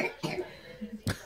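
A person coughs a few times in short, harsh bursts close to the microphone, with quiet breathy sounds between the coughs.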